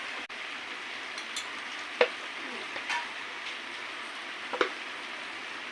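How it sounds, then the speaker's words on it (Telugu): Chili powder going into hot oil in a cooking pan, a low continuous sizzle with a few sharp clicks and spoon scrapes, quiet and close. "ఇప్పుడు కారం వేసుకుందాము."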